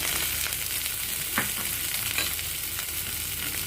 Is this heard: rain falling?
no